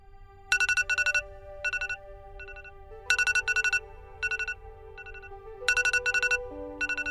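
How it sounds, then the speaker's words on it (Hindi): A phone alarm rings in repeating bursts of bright electronic chimes, a melodic pattern cycling several times, fairly clear and alone. "मेरा अलार्म बज गया।"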